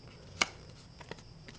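Scissors cut through a folded paper card in one sharp close snip, followed by a few fainter clicks in an otherwise quiet room.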